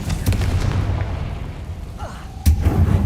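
Confringo blast spell in a Harry Potter game: a booming explosion over a rumbling low background, with a sharp burst near the end as another impact lands.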